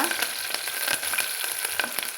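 Curry leaves and other ingredients for sambar rice sizzle steadily in a hot pan, a continuous crackling hiss with small pops and stirring noises close by.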